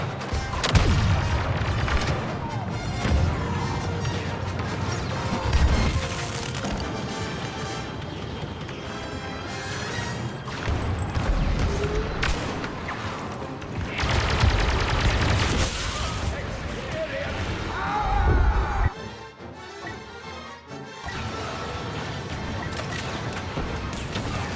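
Loud, rumbling grenade blasts and booming battle noise from the Star Wars Battlefront 2 multiplayer video game, dense and continuous with several heavy impacts and a sharp drop near the end, with voices mixed in.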